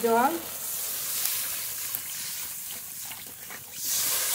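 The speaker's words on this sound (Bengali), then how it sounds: "এবার জল দিয়ে দেবো" Water poured into a pan of lightly fried spice paste for a fish curry, giving a sharp hiss that settles into a steady, close sizzle with bubbling, and a brief voice at the start.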